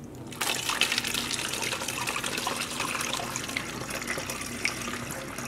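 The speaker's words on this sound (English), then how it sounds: "Beaker is actually pouring in really nicely" Dye solution poured from a beaker into a stock bottle, a close, continuous liquid gurgle and trickle that starts abruptly and keeps a steady flow throughout.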